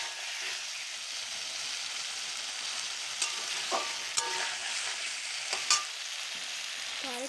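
Goat meat sautéing and stirring in a pan for a curry, with a steady broadband sizzle throughout and a few sharp spatula scrapes and clinks near the end, fairly close and alone.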